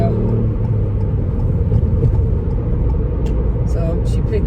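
A 2021 Ford Fiesta ST accelerates onto a motorway, heard from inside the cabin as a loud, steady engine and road rumble that stays constant throughout.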